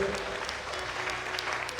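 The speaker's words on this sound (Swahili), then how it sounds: "Pigia Yesu makofi mazuri." Congregation clapping during a church worship service, a dense burst of applause from a crowd that carries on through the short moment.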